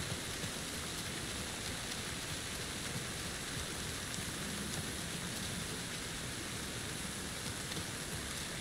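Rain pouring on a city street in the game Alan Wake 2, a steady dense hiss of falling water with no breaks, even and moderately loud throughout.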